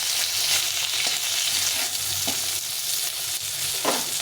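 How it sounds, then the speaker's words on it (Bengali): Singi fish sizzles steadily in hot oil, crisping up over a constant frying hiss with a few soft stirring scrapes, close up and without voices. "মাছটা কড়া করে এইভাবে ভেজে নিলাম"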